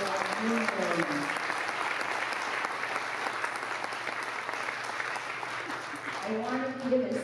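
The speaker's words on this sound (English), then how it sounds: "Let's give a round of applause for our new members." An audience at a school district convocation gives a sustained round of applause, dense and steady clapping filling the room for several seconds, with a speaker's voice heard briefly at the start and again as it dies down.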